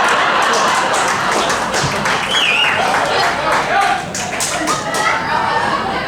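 A comedy show audience claps and applauds in a steady, loud wash of many hands, with crowd murmurs and speech mixed in throughout.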